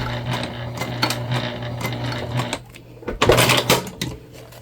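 A sewing machine hums and clatters in short bursts while stitching a Magnolia tote bag, with a brief pause and then a louder burst of handling noise near the end.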